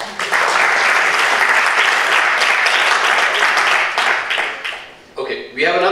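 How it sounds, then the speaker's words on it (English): Loud, sustained applause from an audience at a celebrity charity event, with dense continuous clapping that dips briefly near the end and then swells again. "Another round of applause."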